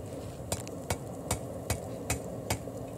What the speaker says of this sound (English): this is the widest hammer that I have, and I just do light taps